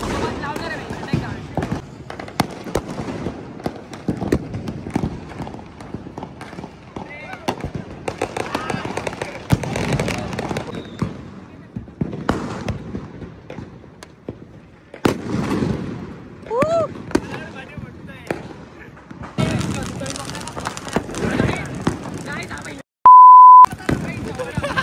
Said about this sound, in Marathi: गंगेवर फटाके फोडायचे